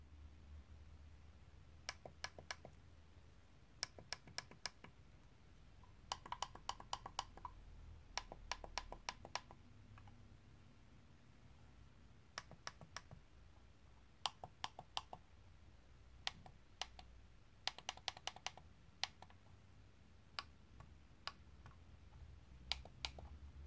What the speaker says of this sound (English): the buttons make a really nice and audible clicking sound when we press them